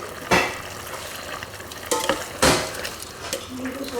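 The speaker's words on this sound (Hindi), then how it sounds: "भून लेना है इसको, हमने हाई हीट पे ही रखा है।" Potatoes are stir-fried over high heat in an open pressure cooker for aloo gosht. A steady sizzle runs under a few sharp scrapes and clanks of a spoon against the metal pot.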